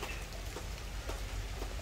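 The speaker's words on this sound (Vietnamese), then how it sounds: "Mưa mưa lớn này quý vị, mưa lớn này" Heavy rain falls on an eroding hillside area near houses in Vietnam, a dense, steady pattering hiss with scattered louder drops, continuous and close, with no voices.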